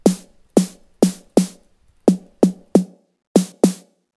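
An FM-synthesized snare drum built from an oscillator plus a noise oscillator, struck nine times in an uneven rhythm, each hit loud and sharp with a long hissing noisy tail.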